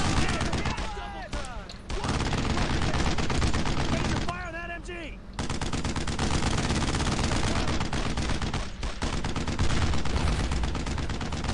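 Sustained enemy machine-gun fire in the WWII shooter Brothers in Arms: Road to Hill 30, rapid dense bursts with scattered other shots, loud and continuous, with brief voices breaking through between volleys.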